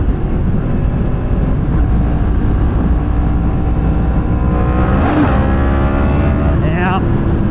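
A loud, steady Yamaha MT-10 motorcycle engine drones throughout, rising in pitch as it revs near the end, with wind noise buffeting in the background.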